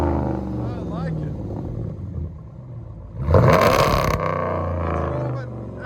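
A 2012 Ram 1500 pickup with a 5.7L Hemi V8, true dual exhaust and muffler delete, burbles at idle under someone talking, then barks out one loud, raspy rev before settling back.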